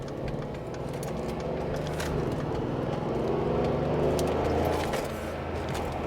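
A Mercedes G-Wagen 4x4 Squared off-roader in sport mode drones with a constant engine rumble and road roar heard from inside the cabin, steady and fairly loud throughout.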